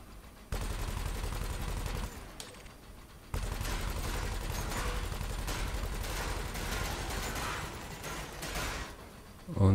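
Weapons firing in the space game Elite: Dangerous, dense sustained bursts of rapid gunfire that stop briefly and then resume, loud and continuous, ending with a sharp louder burst.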